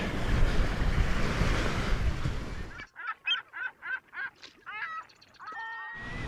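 Surf and wind along the beach at Playa del Carmen, Mexico, roar loudly and continuously for about three seconds, then drop away, leaving a series of short honking calls before the surf noise returns at the end.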